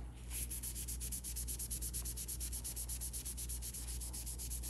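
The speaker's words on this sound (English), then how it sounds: "Now I'm going into an anxious scrub" Rapid rhythmic scrubbing of face paint off a reborn doll's vinyl face, a quick even back-and-forth rubbing that stays close and soft throughout.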